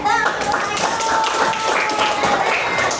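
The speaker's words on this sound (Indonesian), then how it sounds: "tepuk tangan lagi" Primary school pupils in a classroom clap their hands, a lively patter of many small hands with children's voices and a held vocal tone over the clapping.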